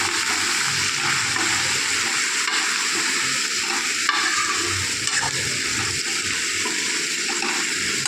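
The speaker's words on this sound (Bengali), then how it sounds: "এখন আমি ভালো করে এটাকে নাড়াচাড়া করে নেব।" Vegetable curry stirred in a hot pan after ground cumin, turmeric, coriander and chili powder go in: a steady sizzle with continuous scraping and stirring, close and fairly loud, no voices.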